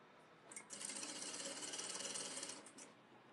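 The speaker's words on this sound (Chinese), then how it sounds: "缝线的时候尽量不要缝到松紧带" A sewing machine stitching the elastic waistband of pajama pants, a quiet close whirring run of rapid stitches lasting about two seconds, alone without talk.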